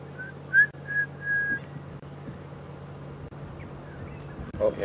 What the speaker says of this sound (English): Most wonderful bird calls this morning.